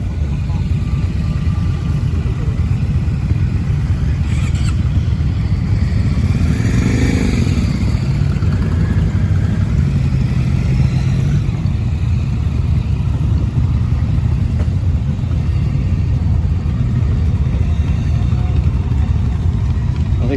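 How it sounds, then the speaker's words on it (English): An off-road style crossover moped engine runs with a constant, loud mechanical drone, rising briefly as if passing close by around the middle before settling back to a steady hum. "off-road sort of style moped."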